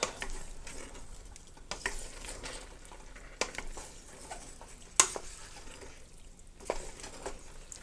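Pasta with beans and sausage is mixed in a pan, giving faint intermittent scrapes and clinks of a utensil against the pan over a low background hush.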